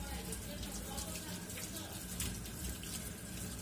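Running tap water gushes steadily into a sink as a peeled bottle gourd is washed underneath, a continuous close splashing flow.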